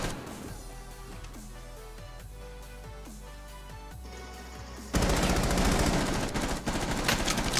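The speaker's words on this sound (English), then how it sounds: "We're trying to shoot you through the floor." Automatic gunfire rattles in Rainbow Six Siege as shots go through a floor, rapid bursts at first, then a louder, denser stretch of fire toward the end.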